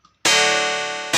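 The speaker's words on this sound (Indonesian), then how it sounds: "Kalau pakai steel guitar tuh bunyinya seperti ini teman-teman." A steel guitar voice played from FL Studio with the FL Keys layer muted rings out as one loud sustained chord with a slight vibrato shimmer, cut off abruptly before a second chord starts at the very end.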